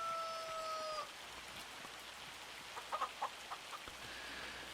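Chickens cluck in a farm setting in the Farming Simulator 25 game, a few short, sharp clucks bunched together midway over a soft, steady background hiss.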